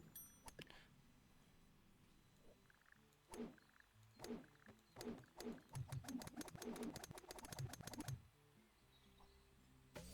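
Cartoonish birds in the golf game What the Golf make a burst of rapid, clustered calls and squawks that grow denser in the middle and then stop, heard faintly over a quiet game background.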